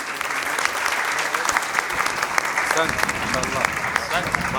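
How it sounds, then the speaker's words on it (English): Sustained applause from a talent show audience fills the whole stretch, dense steady clapping with scattered sharper claps, at a moderate level with no talk on top. "A big round of applause, please."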